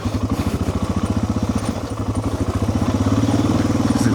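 A motorcycle engine chugs in a steady pulsing rhythm while riding slowly over a rocky rock garden trail in New Mexico, close and fairly loud, with clattering and revving that rises toward the end.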